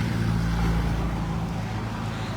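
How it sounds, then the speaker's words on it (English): A car drives past on a road outside, a steady, close rumble of engine and tires with low hum that holds for the whole moment, with no talking over it. "Just letting this car go past."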